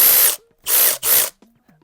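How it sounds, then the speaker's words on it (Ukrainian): A cordless screwdriver runs in three loud bursts, its clutch slipping and ratcheting with a harsh buzzing rattle, with short silences between and a faint click after. "Бачите, запобіжник спрацьовує, коли я притримую рукою"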